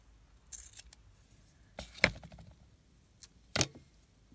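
Scissors snip a piece off a strip of double-sided tape in a few short, crisp cuts spaced apart, close and fairly quiet with soft handling noise between.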